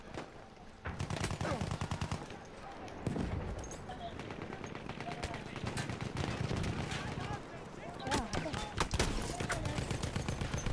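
Gunfire in Battlefield 1 on a factory map, including the Model 10-A pump shotgun, with repeated sharp shots and bursts over a busy battle din, fairly faint overall, with players talking at times.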